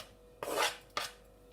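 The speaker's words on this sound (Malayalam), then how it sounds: "ഇവിടെ ഞാൻ പച്ചമുളക് വളരെ ചെറിയ പീസസ് ആയിട്ടാണ് കട്ട് ചെയ്യുന്നത്" Two knife strokes chop green chillies into small pieces, the first a longer rasping cut and the second a short sharp one, both close and alone with no one talking.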